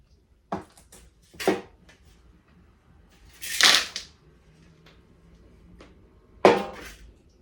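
Tapping on a plant pot after repotting: four separate light knocks, near and fairly crisp, spaced unevenly with quiet pauses between them, no voices.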